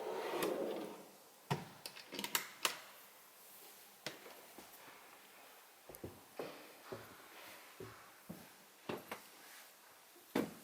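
Drawers in the double floor of a Morelo Empire luxury motorhome slide open and shut with a series of sharp knocks and clicks, scattered irregularly, close by and moderately quiet.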